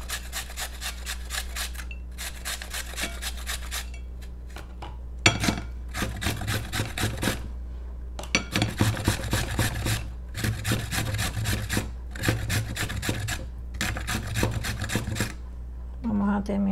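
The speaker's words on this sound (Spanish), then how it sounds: "Yo voy a picar una cuarta taza de zanahoria." A knife chops carrot in a kitchen while making Kentucky-style cabbage salad, heard as close bursts of quick rhythmic cutting strokes separated by short pauses over a low steady hum, with no voices.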